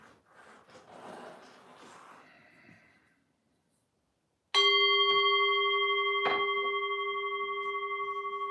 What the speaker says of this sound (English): One rings a little bell.